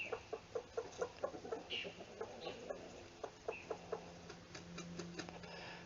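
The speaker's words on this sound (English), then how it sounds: "there goes 5 minutes of chickens getting out for the first time." Chickens cluck and peck in a new outdoor run, a steady string of short rhythmic clucks with occasional louder calls, close and moderately quiet, with no talk.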